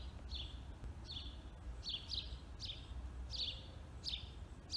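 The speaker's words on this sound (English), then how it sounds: "Sounds like the birds are training their kids again." Birds in a garden give repeated short chirps, about six bright calls spaced roughly evenly, heard over a steady low outdoor rumble, with no one speaking.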